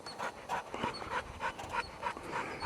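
A hot dog pants rapidly and steadily on an outdoor trip near Chief Joseph Mountain and a sawmill, with quick rhythmic breaths close by and no voices.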